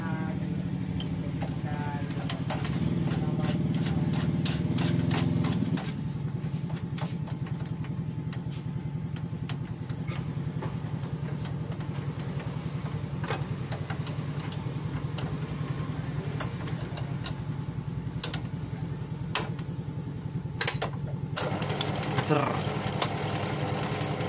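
A drill press runs with a steady mechanical motor hum throughout, with a lower drone for the first few seconds and occasional sharp ticks and clicks over it.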